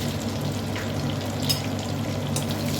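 Bay leaf and nigella seeds sizzle steadily in hot oil left from frying prawns, a close, even crackle with faint clinks, no voices.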